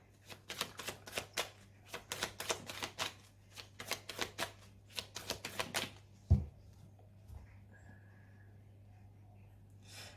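A deck of mirror oracle cards is cut and handled, with a quick rhythmic run of close card flicks and shuffles, then a single sharp tap and quieter handling.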